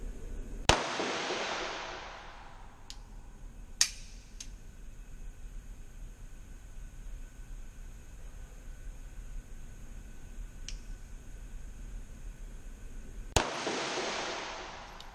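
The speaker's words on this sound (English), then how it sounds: "I'll do 5 double action shots at the left pasty with the Beretta double action." A Beretta 92 pistol fires double-action shots outdoors, with sharp, widely spaced cracks at irregular intervals, the loudest trailing off in a lingering echo over quiet background hiss.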